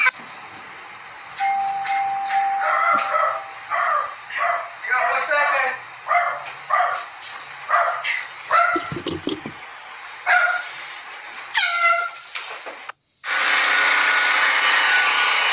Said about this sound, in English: I think it's a dog.